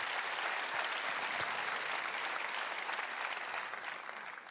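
An audience applauds at an annual information meeting held in a congress hall, dense sustained clapping from a large crowd that holds steady and fades slightly at the end.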